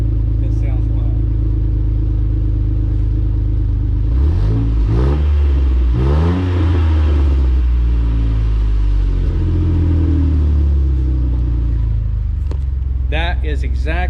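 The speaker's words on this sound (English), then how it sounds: "That is exactly the exhaust sound I was wanting." A deep V8 exhaust on a Jeep Wrangler JK rumbles at idle, then revs up hard several times, loud and close, dropping back to a throaty burble between blips.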